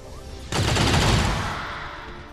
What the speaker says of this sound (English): Ranger accuracy, go rapid fire.